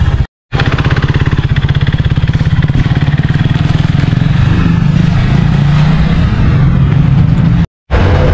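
A KTM motorcycle, in for its 30,000 km service, runs loud and close with a throaty, pulsing engine note that rises and swells as it revs, briefly cutting out near the start and end.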